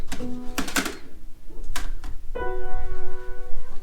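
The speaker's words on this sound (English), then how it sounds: "good old typewriter." An old typewriter in an abandoned musician's farmhouse is handled, giving sharp mechanical clacks and a couple of metallic strikes, then a ringing tonal hum near the end, close and loud.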